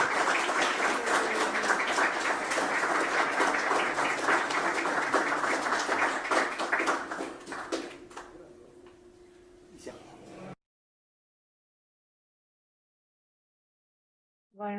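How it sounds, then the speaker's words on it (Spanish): Applause from the attendees at a technical session marking a handover to a new president, dense clapping for several seconds that thins into scattered claps, then silence. "Unos aplausos, por favor"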